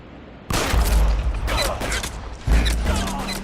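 Gunfire in the video game L.A. Noire: two loud, close shots with heavy low-end booms, the first followed by a burst of rattling reverberant noise, the second sharp and punchy near the end.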